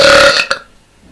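A loud, drawn-out belch fills the opening half-second, followed by a shorter second burp before the sound trails off into near quiet.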